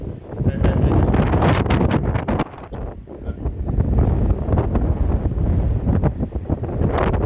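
Strong wind buffets the microphone outdoors on a road trip stop in New Mexico, a loud continuous roar with gusty surges that dip briefly near the middle, likely while the hood of a car is being held against it.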